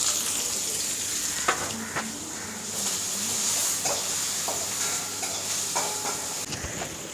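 Onions sautéing with a little salt in a pan, a steady close sizzle with intermittent spoon scrapes and clinks throughout, no voices.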